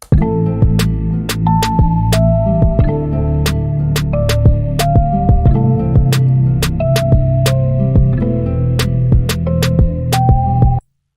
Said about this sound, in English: this is what the kick and the snare sounds like together